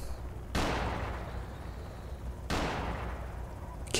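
Two sharp gunshots in the Project Zomboid video game, spaced about two seconds apart, each a loud broadband crack with a long echoing tail over steady background ambience.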